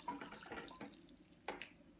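Hot water at about 80 degrees C pours into an AeroPress coffee maker, giving a faint, close trickle with a couple of brief splashy bursts.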